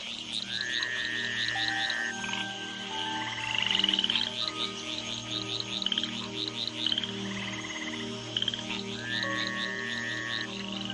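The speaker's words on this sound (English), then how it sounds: "the tree frogs gather for bouts of communal coupling" A chorus of tree frogs calls continuously, with overlapping croaks and rising trilled notes layered over a low pulsing drone.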